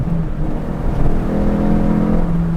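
A Renault Clio 172 on semi-slick tyres revs hard and accelerates steadily in fifth gear, a loud continuous buzzing drone close by with rising pitch and no talking.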